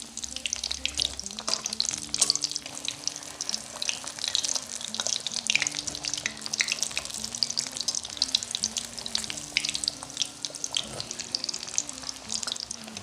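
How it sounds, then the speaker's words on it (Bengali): Chicken cutlets frying over a low flame and being turned on both sides: a steady, even sizzle of oil with occasional soft clatter of a utensil, close and continuous, no voices. "ফ্লেমটা অল্প রেখে কাটলেটগুলোকে দুপাশে ভালো করে উল্টে উল্টে ভেজে নেবেন।"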